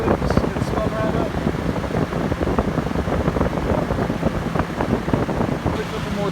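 An RV rooftop air conditioner's fan spinning up, a steady whirring rush mixed with fluttering wind noise, close and fairly loud, with someone talking over it.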